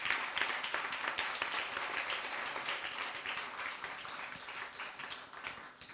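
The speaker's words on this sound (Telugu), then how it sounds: "ఒక్కసారి స్వామి గట్టిగా మందని కూడా చప్పట్లు కొట్టాలి" Audience clapping steadily throughout at a devotional discourse on the Ramayana, a dense, even wash of many hands with no voices over it.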